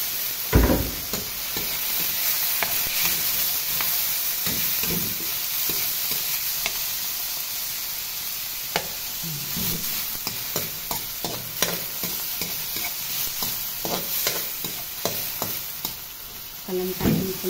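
Fresh tomatoes frying and being stirred in a pan for a Filipino calderita: steady close sizzling with irregular scraping and clacking of a utensil against the pan throughout, no talk.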